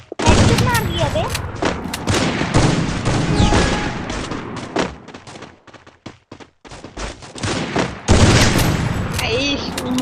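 Sniper and other gunfire in the Free Fire mobile battle royale game, loud sharp repeated shots with game effects, a brief quiet pause, then another burst, with a player talking over it.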